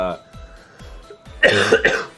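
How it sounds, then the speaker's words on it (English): A couple of loud, rough coughs close by after a quieter stretch, each a broad burst. "the coughing is violent"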